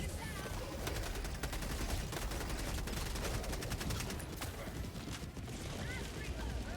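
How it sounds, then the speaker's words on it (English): Sustained machine gun fire rattles in rapid, dense bursts in a chaotic shooter game scene, loud and continuous with explosive booms mixed in. "Holy machine gun bullet hell."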